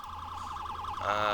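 Ambulance siren in the Police Simulator NYC video game, a fast warbling wail that shifts to a steadier tone near the end, fairly quiet and alone with no talk.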